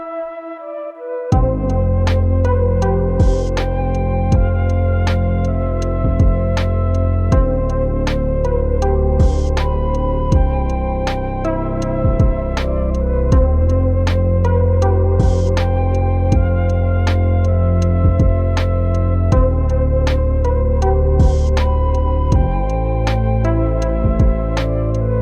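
A simple, chill lo-fi music track plays steadily and loudly: a repeating beat with a slightly distorted kick drum under mellow sustained chords, with no voices.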